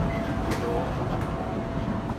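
Inside a moving train in Japan: a steady rumbling hum of the carriage in motion, with faint clacks and brief higher bursts, heard close throughout.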